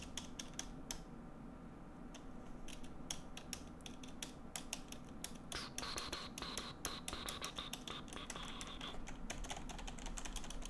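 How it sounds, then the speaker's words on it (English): Rapid keystrokes on a computer keyboard, clicking steadily and close throughout, with a faint hum and some scraping game-like sounds in the background. "Let's practice our typing, chat."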